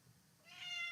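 A house cat lets out one short, faint meow that rises near the end, close by and alone.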